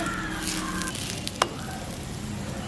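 Onion rotti frying in oil on a flat pan gives a steady, close sizzle with a brief sharp click partway through as it is turned. No voices.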